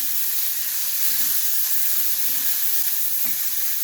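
Chopped onion, about one and a half onions, sautéing in a pan for a Goan Saraswat prawn bhaji, giving a steady loud sizzle with faint stirring scrapes and no talk.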